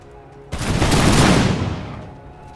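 A single loud musket volley in the strategy game Imperial Splendour, a sharp crackling burst of massed gunfire that swells and then fades over about two seconds.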